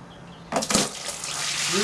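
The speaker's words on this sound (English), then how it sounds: "What I'm going to do now is separate the water at the bottom." Water drains out from the bottom of a homemade biodiesel batch as it is separated from the oil, starting abruptly after quiet, then a steady rushing pour that builds slightly, with no talk.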